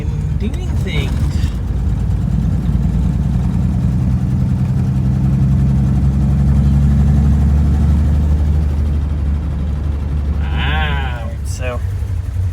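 A 1957 Rolls Royce's engine hums steadily at low pitch as the car drives down the road, a continuous near drone with voices talking over it.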